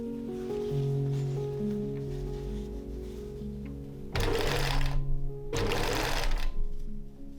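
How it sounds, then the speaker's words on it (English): Sewing machine stitching a velvet dress bodice, a steady close-up motor hum with two louder, rapid bursts of stitching near the end, accompanied by soft background music. "Sewing the velvet bodice works the same way as on the lining bodice before"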